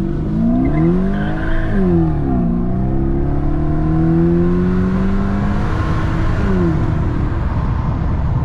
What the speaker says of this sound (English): We burn some rubber.